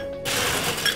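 Ice dropped into a chilled martini glass gives a sudden bright clatter and jangle of cubes on glass, loud and close, then rattles on briefly, with no one speaking.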